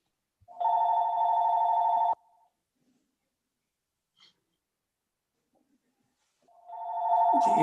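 A telephone rings twice indoors during a quiet planning board meeting, each ring a steady electronic trill of about a second and a half, loud and close, separated by near silence with a faint breath or shuffle.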